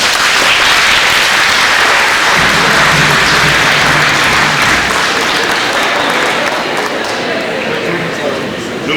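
A church congregation at a wedding breaks into loud, sustained applause, a dense wash of clapping that fills the hall and holds steady before easing slightly near the end.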